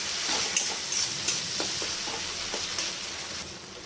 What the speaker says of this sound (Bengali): একটু ঘেটে নেবো।